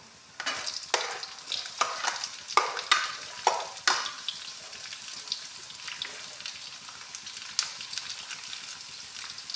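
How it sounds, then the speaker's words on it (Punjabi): Chopped onions drop into hot oil in a pan, sizzling and crackling with several sharp stirring scrapes early on, settling into a softer steady fry; moderately close, no talk. "ਹੁਣ ਆਪਾਂ ਇਹਦੇ ਵਿੱਚ ਪਿਆਜ਼ ਪਾ ਦਿੰਦੇ ਆ"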